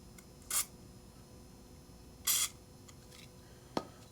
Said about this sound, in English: spray some grease